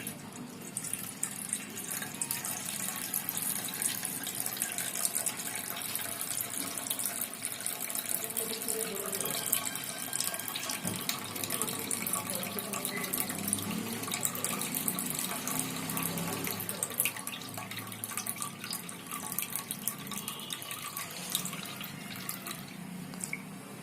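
Tap water runs steadily into a vessel while semolina soaking water is changed for rava kurdai, a continuous close splashing flow that lasts the whole stretch with faint room noise beneath.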